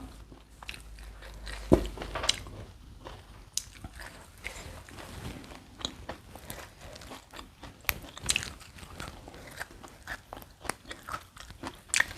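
Beef cartilage being bitten and chewed, with repeated close crunches and sharp cracks in an irregular rhythm over quiet mouth noises, no speech.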